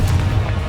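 Confringo, an explosive spell in the video game Hogwarts Legacy, goes off as a short, loud, booming blast with heavy low rumble, filling a brief moment on its own.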